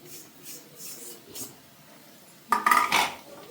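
Poha, flattened rice with cooked potatoes, stirred in a pan: faint soft scrapes at first, then a louder burst of metal spoon clatter against the pan near the end.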